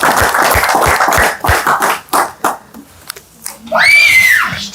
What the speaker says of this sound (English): We want to clap for Nisha Mataji on 5 rounds.